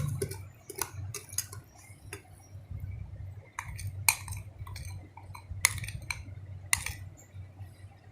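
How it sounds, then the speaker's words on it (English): Spoon mixing wheat and suji cake batter in a bowl, with soft scattered clinks and taps against the bowl over a low background hum, faint and irregular with no talk. "So I'll slowly try to mix this."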